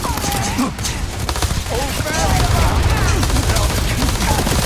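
Dense, loud gunfire from a video game battle, rapid bursts and shots layered over background rumble, with brief voices mixed in.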